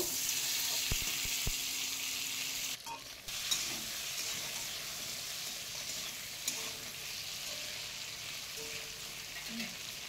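Chopped tomato sautéing in a pan for a thin Bengali fish curry with drumsticks, giving a steady soft sizzle with occasional stirring scrapes and one brief dip partway through.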